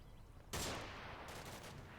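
Gunfire in the war game Combat Mission Black Sea, a sudden loud burst of shots after a quiet lead-in, followed by a sustained rattling volley that stays dense and forceful to the end.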